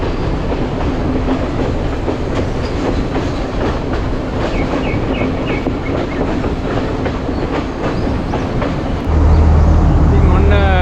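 The Ella Odyssey train rolls along the railway between high-country Sri Lankan stations, with steady loud rumble and rhythmic clickety-clack of wheels throughout, and a deeper, heavier roar swelling near the end.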